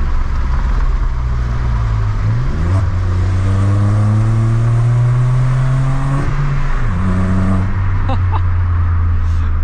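A modified Volkswagen Polo with a loud aftermarket exhaust revs hard through the gears, its close engine drone climbing in pitch with brief dips at each shift, loud and steady over road noise.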